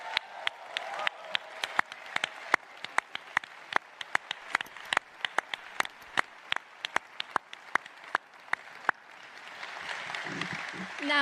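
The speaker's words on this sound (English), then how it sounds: "It's time to give yourselves a massive round of applause." Graduating class of 2025 applauding themselves at their ceremony: a thin, steady run of distinct, crisp claps from a modest crowd, swelling into a denser wash of clapping and murmur near the end.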